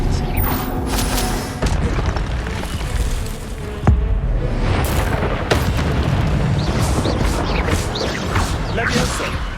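Spell effects in Hogwarts Legacy burst and boom in a steady, busy combat soundscape, with sharp magical impacts and swooshes recurring throughout as voices talk over them.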